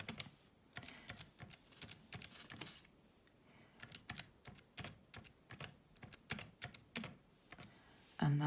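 Rapid keypresses on a calculator as numbers are entered for a factorial calculation, a steady run of short, close clicks and taps in irregular bursts, with a sharper knock at the end.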